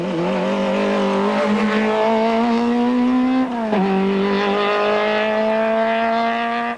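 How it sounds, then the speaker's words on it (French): A Peugeot 205 Maxi rally car with a sequential gearbox, its engine loud and near as it revs steadily upward, with a quick gear change midway before it climbs again. "Cette Peugeot 205 Maxi à boîte séquentielle"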